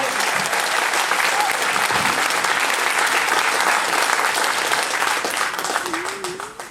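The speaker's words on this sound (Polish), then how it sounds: "Wielkie brawa!" Sustained applause from a political rally audience in Zakopane, loud, dense and steady throughout before tapering slightly at the end, with a voice briefly rising over the clapping.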